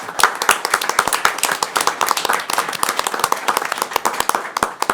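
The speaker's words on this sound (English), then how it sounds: "I ask everybody to give her a round of applause tonight" A school board meeting audience gives a round of applause, steady close clapping from a modest crowd that carries on throughout without any speech.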